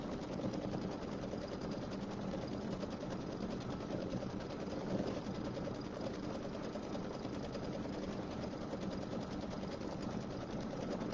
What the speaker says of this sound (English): it looks like it's sewing pretty well